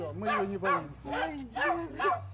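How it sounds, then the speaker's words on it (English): A household dog in Russia barks repeatedly at arriving guests, four or five close, yelping woofs in quick succession with a whiny edge. "Don't be afraid, it's our dog."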